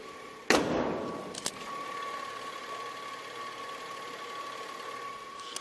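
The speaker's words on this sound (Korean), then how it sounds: "굉장히 조용한 엔진 소음 만나보실 수가 있습니다." A sharp thump opens, then a Hyundai Grandeur TG export model (Azera), Limited trim, idles quietly with its hood closed. It settles into a faint, steady, even hum with a couple of small clicks and no voices.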